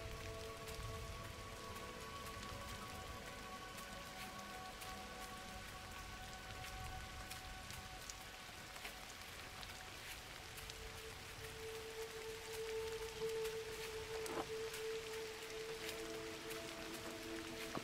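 Rain falling in the video game Gris, a soft, steady patter of drops on surfaces that carries on evenly throughout, joined by sustained musical tones and occasional brighter chimes, with no talking.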